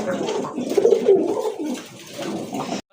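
A pair of pigeons coo steadily in soft, throaty rolling calls, close and clear, with no talking over them.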